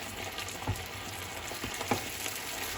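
Pappardelle in truffle sauce being stirred in a pan: quiet, soft scraping and a faint sizzle, with a couple of brief clicks from the utensil.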